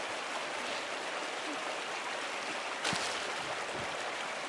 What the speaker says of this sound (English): Waterfall is always so beautiful